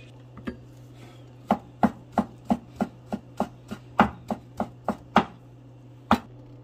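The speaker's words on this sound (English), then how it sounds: "let's slice it tiny bits for our noodles soup" A knife chops a chicken of the woods mushroom into tiny bits for noodle soup: about a dozen crisp, sharp strikes in a steady, even rhythm, close and clear, with no talking.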